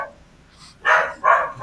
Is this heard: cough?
no